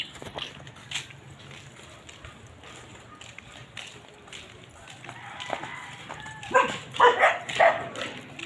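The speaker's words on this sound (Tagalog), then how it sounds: "Ay, daming aso dito. Diyos ko, grabing aso doon." Dogs bark in a residential neighbourhood during a house blessing, scattered and fairly distant at first, then louder, closer yaps cluster near the end as people talk in the background.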